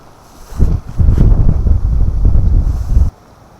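High, cold wind blows across a campsite in wind and rain, with loud rumbling gusts buffeting the microphone for a few seconds before they abruptly drop away.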